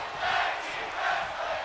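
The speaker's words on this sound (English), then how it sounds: "Crowd chanting for tag team wrestling" A live crowd at a tag team wrestling show chants in two rhythmic swells, a moderately faint, roomy mass of voices with no clear speech.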